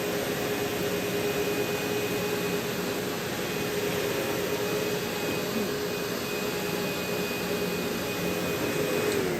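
A Sebo X4 Automatic upright vacuum cleaner runs steadily while picking up hair, a loud, constant motor roar with a faint high whine and no talking.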